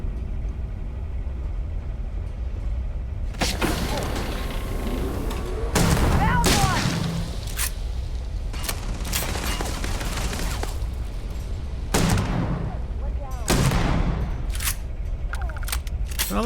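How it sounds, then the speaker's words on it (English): Shotgun blasts in Starfield, several loud booming shots spaced irregularly across the scene over steady game ambience and background noise. "I like this shotgun."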